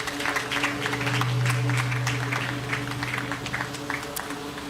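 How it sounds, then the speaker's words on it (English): Audience applause at a live news broadcast event, a dense steady patter of clapping hands sustained throughout under a low hum, moderately loud and fairly close. "Shall we do a big round of applause"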